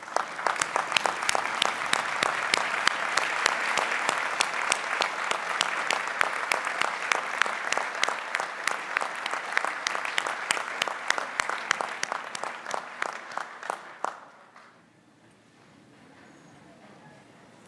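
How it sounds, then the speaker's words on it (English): A large summer commencement crowd applauds at length, with sharp individual claps over a dense roar that stops abruptly after about fourteen seconds and leaves quiet room tone. "applause they deserve."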